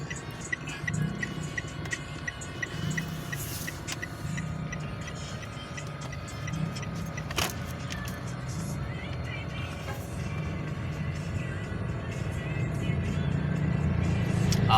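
Car traffic on Aguinaldo Highway, a steady low road rumble that swells toward the end, with a soft rhythmic ticking running through it.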